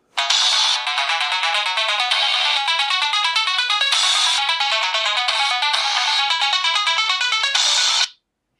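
A bright electronic ringtone melody plays in quick repeating patterns for several seconds, then cuts off abruptly.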